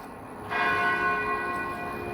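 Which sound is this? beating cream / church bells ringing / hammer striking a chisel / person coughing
church bells ringing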